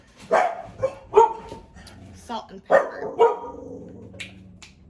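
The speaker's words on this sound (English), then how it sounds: "We have 4 dogs. I don't know what you want. They're gonna bark." Several loud dog barks come in bursts, clustered in pairs, close by, with a person talking briefly between them.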